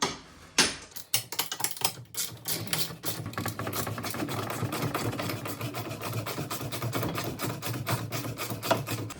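Bolts being tightened evenly on a Native Watercraft Titan X 12.5 kayak, heard as a dense, steady run of close ratcheting clicks and scraping that continues without pause after a brief start.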